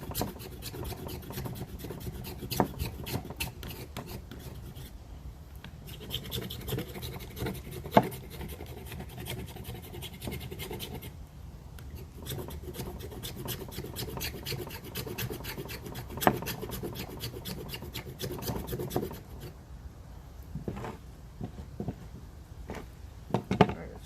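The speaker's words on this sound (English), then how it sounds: "So we're just going to get a good amount of shavings here, like we did before." A knife blade shaves thin curls from a piece of fatwood in a quick scraping rasp that repeats close up and steady, with a couple of brief pauses.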